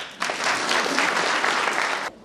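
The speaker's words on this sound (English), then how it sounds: "You can clap, no problem." Audience at a science day event at a college bursts into dense, loud applause that starts suddenly, holds steady for about two seconds, then stops abruptly.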